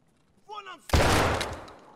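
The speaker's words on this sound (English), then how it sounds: "Was that a shot from outside?" In Escape From Tarkov, a single loud gunshot from outside lands as a sharp crack and rolls into a long reverberant tail that fades slowly. A brief voice is heard just before it.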